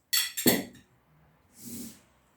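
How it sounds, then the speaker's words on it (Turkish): A spoonful of rock salt tipped into a large glass bottle: a couple of sharp glassy clinks and a rattle, then a softer gritty rustle, close and quiet. "Büyük şişemize bir kaşık kaya tuzumuzu koyuyoruz."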